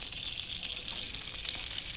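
Chicken fries in ghee, making a loud, continuous close-up sizzle with fine crackling and no pauses.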